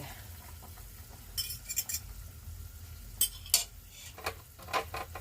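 Egg gets stirred into fried tuna (tulingan) in a pan, with a soft sizzle underneath and several sharp utensil clinks and scrapes against the pan at irregular intervals, close and without talk.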